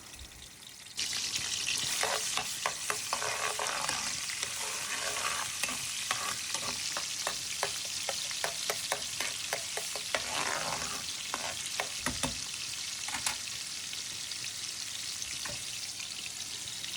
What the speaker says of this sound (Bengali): এখন আমি একটা কড়াই বসিয়ে দিয়েছি আদা রসুনটা একটু ব্রাউন হয়ে যাক